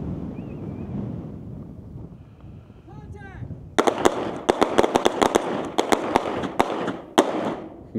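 Rapid gunshots ring out at an outdoor shooting range, a string of sharp, loud cracks in quick succession after a quieter windy stretch with a brief voice, some shots overlapping near and far.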